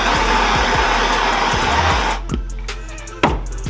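A heat gun blows hot air onto tint film on a Jeep WJ headlight: a loud, steady close whoosh for about two seconds that then cuts off, leaving quieter handling noises.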